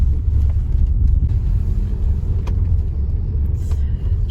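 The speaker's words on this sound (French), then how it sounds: "j'appuie sur l'accélérateur et c'est parti" A Tesla Model S 85D electric car pulls away, steady low road rumble with wind noise and faint tyre hiss, no engine note, continuous and close.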